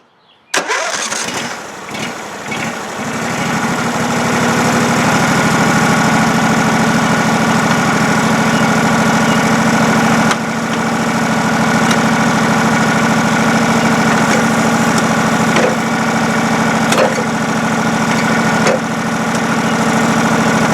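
A John Deere SST16 lawn tractor engine starts with a stuttering crank, then settles into a loud, steady idle close by, with a few brief bumps in the running note.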